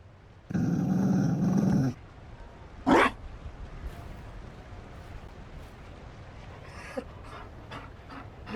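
A Mabari war dog from the video game Dragon Age Inquisition gives a rasping growl, then a short sharp huff, followed by quieter panting breaths, close and clear over a low ambient bed.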